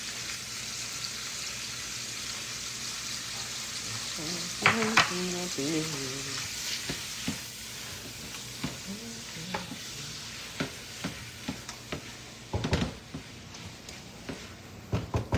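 Crab and shrimp sizzle in garlic butter in a pan, a soft continuous fizz broken by repeated utensil scrapes and taps as they are stirred, with brief clatters toward the end.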